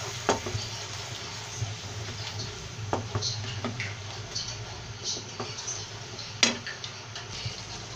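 A spoon stirs spiced yogurt into a sizzling pan for beef and potato kofta, giving a steady frying hiss broken by scattered scrapes and taps against the pan, with no voices.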